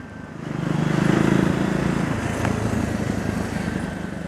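A 2026 Triumph Scrambler 400X motorcycle engine drones steadily while riding, swelling slightly and then holding a loud, even hum throughout.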